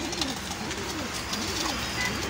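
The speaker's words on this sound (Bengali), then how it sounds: "এই যে ব্রিডিং করে কবুতরগুলা।" Pigeons cooing in a breeding setup, several rolling low coos repeating in a loose rhythm, close and clear over a faint room background.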